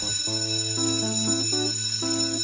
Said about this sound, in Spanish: Pensé que la campana nunca iba a sonar.